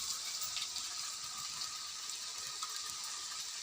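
Tamarind water, a lemon-sized lump of tamarind dissolved in water, pours steadily into cooked lentils, a continuous soft gushing trickle close by, with no talk.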